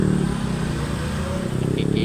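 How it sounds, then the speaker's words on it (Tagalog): Busy street traffic in Cubao, with cars and motorcycles rumbling and revving in a steady, loud wash of engine noise that holds through the whole moment. "Puro busy mga sasakyan dito guys."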